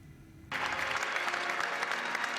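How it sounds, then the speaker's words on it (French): Long applause for the Pope in Rome's great synagogue breaks out suddenly and swells into a dense, sustained crowd ovation that fills a large hall, with no talk over it. "Applaudi longuement pour sa première visite dans la grande synagogue de Rome."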